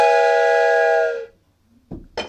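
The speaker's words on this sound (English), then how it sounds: "But I can't do that, so I got a train whistle." A loud, sustained train whistle blows a rich harmonic chord for about a second, then cuts off, followed by brief rustling noises.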